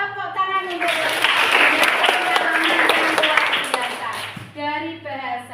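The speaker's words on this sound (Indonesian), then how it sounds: "Tepuk tangan untuk Reza." A middle school classroom of students claps for a classmate in a burst of loud, dense applause lasting several seconds, with a teacher talking before and after it.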